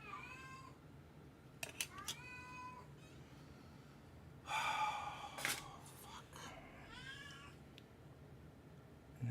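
A house cat meows several times, the cries rising and falling in short bursts, with a louder rustling handling noise midway, heard close in a quiet indoor room.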